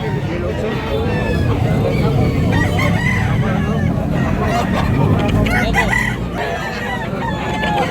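At a crowded poultry market in Tabunok, Cebu, several roosters crow and birds cluck close by over a steady low rumble of crowd noise and background talk.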